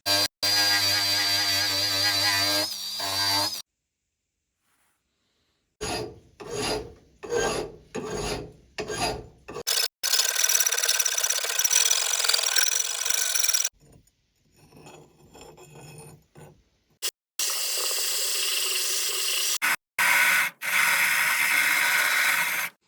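A hand rasp works a wooden horseshoe in a forging workshop, giving bursts of gritty rasping strokes, some sustained and some in quick repeated passes, separated by short silent pauses and heard up close without talk.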